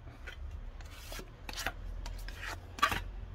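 Body filler being mixed with hardener on a board for a Nissan R32 bumper repair, a spreader scraping and rubbing in quick irregular strokes, close and fairly quiet over a low background hum.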